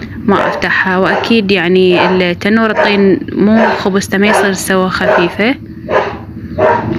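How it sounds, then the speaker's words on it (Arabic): A dog barks and yips repeatedly at close range in a home kitchen while someone talks over it and bakes bread in a clay tannour oven. The barks come in quick loud bursts and dominate the scene. "اعذروني على صوت الكلب"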